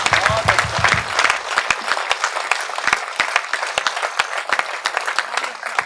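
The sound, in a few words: audience applause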